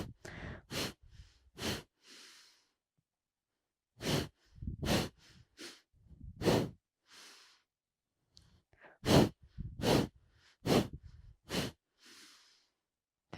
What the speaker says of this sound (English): Massive breath in. We're going to pick up that pace.